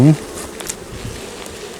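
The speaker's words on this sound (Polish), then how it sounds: "O, pszczoły chyba trochę spokojniejsze." Honeybees from an untreated colony buzz in a dense, steady hum over an open hive frame in a forest apiary, with a brief louder burst at the start and faint fizzing wingbeats throughout.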